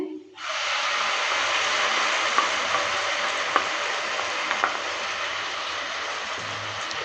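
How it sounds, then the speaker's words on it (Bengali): Pointed gourd paste hits hot oil with frying onion and garlic, setting off a sudden loud, steady sizzling hiss that holds evenly, with a few faint spoon clicks. "পেঁয়াজ আর রসুনটাকে ভালো করে ভেজে নিলাম যে পটলটা পেস্ট করলাম সেই পেস্টটা এবার ঢেলে দিচ্ছে"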